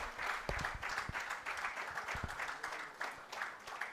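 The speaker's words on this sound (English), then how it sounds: "Let's all have a big round of applause." A lecture audience claps in a steady, dense round of applause after a talk, fairly faint and even throughout, with a few sharper claps standing out.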